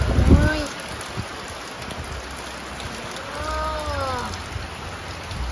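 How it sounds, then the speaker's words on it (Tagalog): Steady heavy rain hissing all around, with a brief voice near the start and a few short vocal sounds partway through. "Lakas ng ulan dito."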